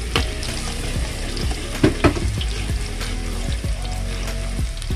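Garlic frying in a pan for spicy chicken chop suey, a steady sizzle with intermittent stirring and scraping clatter, close and fairly loud throughout.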